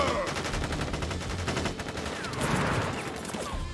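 A rifle volley in Crisis Core: Final Fantasy VII Reunion crackles as rapid, dense automatic gunfire, sustained and loud throughout the short burst.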